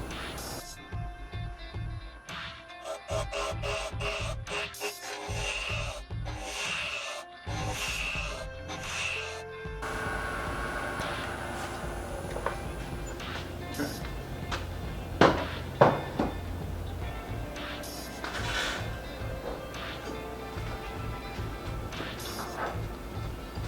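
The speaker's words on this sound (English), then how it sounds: "let me grab a spindle roughing gouge and I'll rough it down to profile" A spindle roughing gouge roughing down a mesquite blank on a wood lathe, a continuous rough scraping and chattering cut with the lathe's hum underneath, close and fairly steady for the whole stretch.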